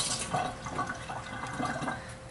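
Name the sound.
washing broccoli under running water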